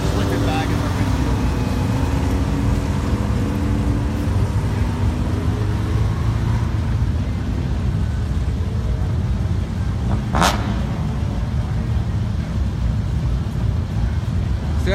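Pontiac Aztek race car at a LeMons Sonoma race event, engine roar and road noise passing steadily and loudly throughout, with people talking over it.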